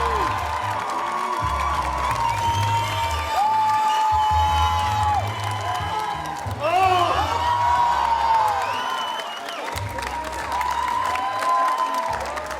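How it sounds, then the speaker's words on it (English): A theatre audience at a Filipino American student culture night breaks into sustained applause and loud cheering, with whoops and shouts rising in swells. An amplified voice speaks over the crowd in places. "give a humongous round of applause to Ricky and Chessa Montgomery"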